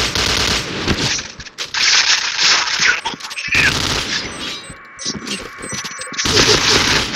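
Shotgun blasts and rapid gunfire from an online clan war video game, loud dense bursts filling most of the stretch with brief gaps, while players shout and talk over the shooting.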